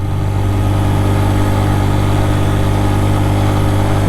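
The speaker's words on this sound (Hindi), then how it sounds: "पहले गियर में जा रहा है बाइक आहिस्ता आहिस्ता।" Motorbike engine pulling slowly uphill in first gear on a mountain road near Naran and Nomal, a steady loud drone with a strong low hum that holds even and continuous throughout, with no voices.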